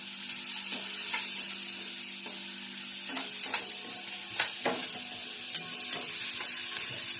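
Spices for a toor dal tempering sizzle in hot oil, a steady close crackle with a few sharper pops and stirring clicks, with no voices.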